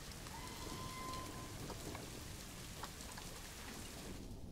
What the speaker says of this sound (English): it's raining and everything as well, so it's like impossible to see